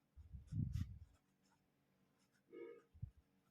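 A pen writing on paper in a class math lesson, with a short scratchy stroke at the start and two brief strokes near the end, all close and fairly quiet.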